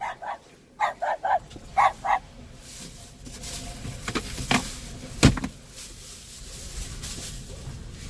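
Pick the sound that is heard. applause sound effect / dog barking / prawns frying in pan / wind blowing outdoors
dog barking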